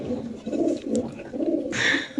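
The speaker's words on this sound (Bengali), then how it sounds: "ক্রিম বার বোম্বাই মাদি কবুতর আপনি দেখতে পাচ্ছেন আসলে খুবই সুন্দর" A cream bar Bombay hen pigeon coos close by in soft, rolling, throaty bursts, with a brief brighter flutter near the end.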